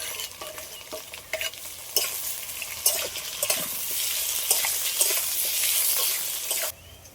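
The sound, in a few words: frying ginger-onion paste with potatoes, stirring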